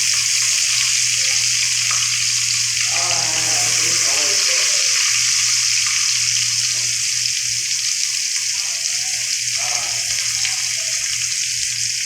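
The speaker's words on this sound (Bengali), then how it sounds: "পেঁয়াজ ভাজা হচ্ছে" Onions sizzling in hot oil in a pan alongside ginger and garlic, a constant close frying hiss with occasional stirring scrapes, while a person talks intermittently over the cooking.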